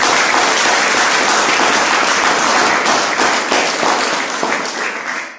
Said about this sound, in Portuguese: Aplauda o nome do Senhor Jesus Cristo.